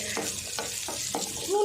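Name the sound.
chana dal and urad dal frying in hot oil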